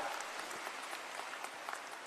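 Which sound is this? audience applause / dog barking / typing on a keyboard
audience applause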